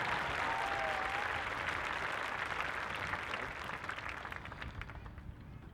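A crowd claps steadily at a distance after a drumline camp performance, a dense wash of applause that gradually thins toward the end.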